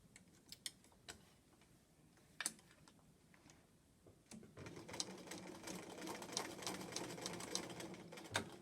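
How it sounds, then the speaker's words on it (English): A domestic sewing machine stitching off the edge of a quilt, first with sparse clicks and a few stitches, then a rapid steady run of mechanical stitching that is close, quiet and alone. "I'm going to sew it off the edge"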